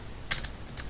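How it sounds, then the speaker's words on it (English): A few quick keystrokes on a computer keyboard, clicking faintly and sparsely against a quiet background during a Java programming session. "let me type it right"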